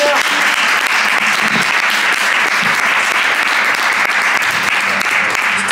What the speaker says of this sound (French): un maximum d'applaudissements pour Anna Renner